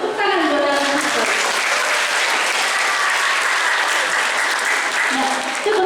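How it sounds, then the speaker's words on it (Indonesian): A school audience breaks into loud, sustained applause for alumni of SMP 10 at a disaster mitigation outreach event. The clapping swells after a brief voice at the start, stays steady and dense, then gives way to talk again at the end. "Tepuk tangan buat alumni 10."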